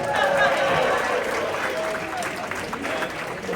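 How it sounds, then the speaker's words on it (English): Sustained audience applause at a comedy show, a dense wash of clapping from a sizable crowd that fades slightly toward the end. "Give yourselves a round of applause."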